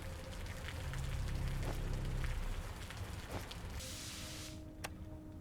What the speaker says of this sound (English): Get inside out of the rain.